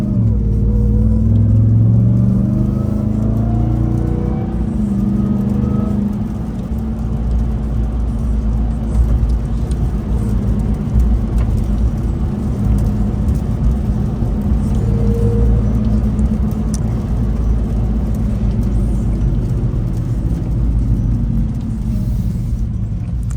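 A 2024 Ram TRX pickup's deep supercharged Hellcat V8 rumbles steadily while driving, with low road noise and occasional shifts in revs, no talking.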